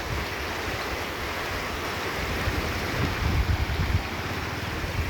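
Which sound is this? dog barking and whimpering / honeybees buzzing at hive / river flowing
river flowing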